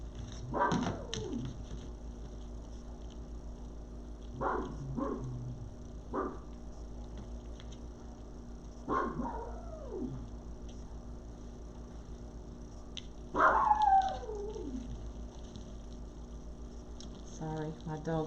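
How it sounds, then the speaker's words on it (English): Dogs bark from somewhere away from the room in four short, sharp bursts, spread out over several seconds above a steady low hum. "my dogs are barking at another dog out there somewhere"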